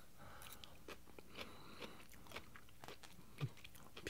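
Close, quiet chewing of Hunan beef with snow pea pods and carrots, soft irregular crunches and bites with faint mouth sounds, no talking.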